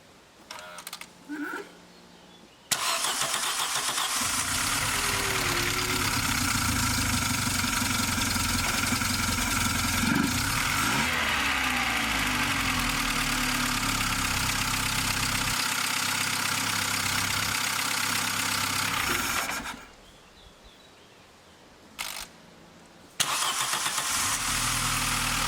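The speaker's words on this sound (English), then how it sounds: "let's crank and hear if the engine is gonna start" A VW Golf Mk3 engine, just reassembled after a head gasket replacement, cranks and catches, then runs at a loud, steady idle for many seconds before shutting off, with faint clicks and knocks around it.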